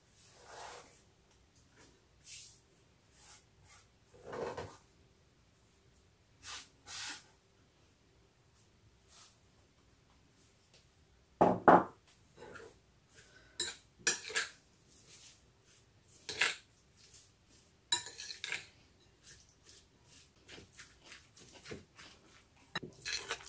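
Utensils toss a coleslaw salad in a bowl, producing sparse, quiet clinks and scrapes that come in irregular bursts, busier in the second half, with no talking.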